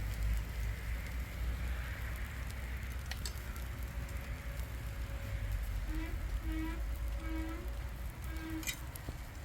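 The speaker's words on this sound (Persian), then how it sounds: "بارون میزنه" Steady rain falls throughout, a dense continuous patter with low rumbling underneath, joined near the end by a few faint tonal sounds.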